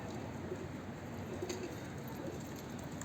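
Soft cooing of a pigeon or dove, a few low murmuring notes faintly heard over a steady outdoor background hiss.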